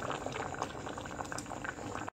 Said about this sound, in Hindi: मिर्ची का जो पेस्ट था अब हम इसमें पोर करेंगे